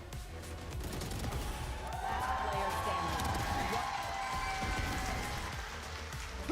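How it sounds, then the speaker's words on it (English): A large arena crowd cheers and applauds at the VCT EMEA Grand Final, a Valorant esports match between VIT and TH on map Haven. The roar is sustained and dense with clapping, heard at a distance under faint talk. "a lot of big cheers at the mention there"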